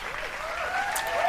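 Applause from a television talent-show audience at a Playmobil-themed final, a steady dense patter of clapping held at an even level throughout, with a few high whoops near the end.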